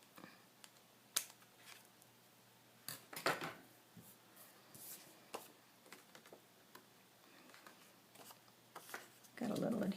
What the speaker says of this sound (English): we just snip that off at the top